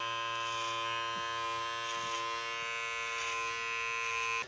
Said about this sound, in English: So that is trimming with the Brio Beardscape.